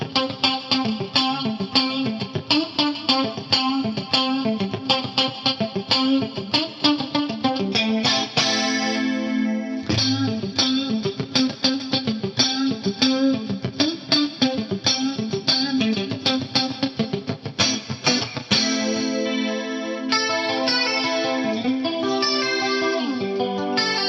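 An electric guitar through a VCA bus compressor on an Axe-Fx III plays a tight, evenly compressed run of plucked notes and chords with a bright, slightly driven tone, sustained throughout with no talking.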